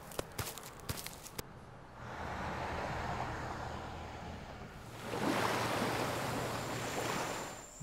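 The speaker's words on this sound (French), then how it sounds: "Bruit de mer" Sea waves wash in, two broad rushing surges of surf, the second louder and closer. A few sharp clicks come first.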